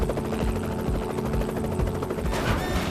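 Steady, loud helicopter rotor chop with a droning engine whine, continuous throughout and no voices; a military helicopter on the Bin Laden compound raid.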